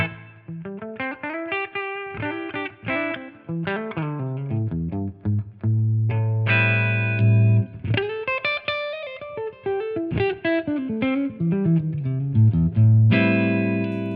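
A Gibson Les Paul Custom Shop '59 reissue electric guitar, clean tone, played alone up close, mixing single-note runs with ringing, sustained chords; the tone is fairly full with a slight edge.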